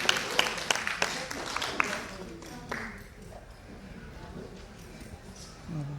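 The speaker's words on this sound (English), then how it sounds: "Come on, keep clapping, come on." An audience claps for the First Lady of Abia State at a conference, the clapping brisk at first, then thinning and fading to a lower, scattered patter, with some voices mixed in.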